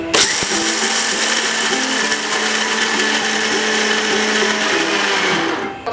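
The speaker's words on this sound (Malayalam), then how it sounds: "കടല എടുത്തിട്ടുണ്ട് നമുക്കിന്ന് ഇത് ജാറിലിട്ട് ഒന്ന് അരച്ചെടുക്കാം" A mixer grinder jar grinds peanuts into peanut butter with a loud, steady motor whine that runs without a break, then cuts off abruptly at the very end.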